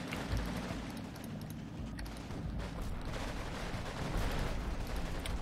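Artillery shelling in the WWII strategy game Combat Mission Red Thunder: a steady, dense low rumble of overlapping distant impacts and booms rolls on without a break, fairly loud throughout.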